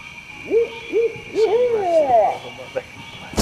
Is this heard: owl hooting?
yes